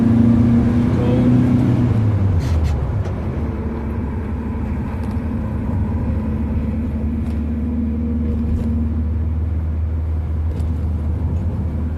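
A Ford Zephyr V4 car on the move on a sunny day, its engine giving a steady, fairly loud low rumble with a brief shift in pitch early on, then a constant drone throughout.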